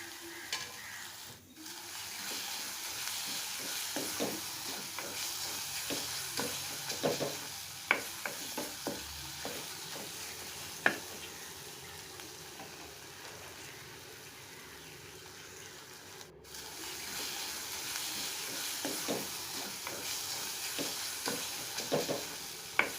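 Tomatoes frying with salt in a pan, a steady soft sizzle under intermittent spatula stirs and scrapes, close and moderately loud with a brief quieter stretch midway.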